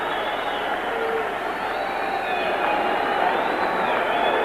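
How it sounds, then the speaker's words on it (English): A crowd fills a 1976 boxing arena ahead of the Muhammad Ali versus Jimmy Young fight, a dense, continuous roar of voices and cheering that swells slightly toward the end. "Now you begin to hear the crowd."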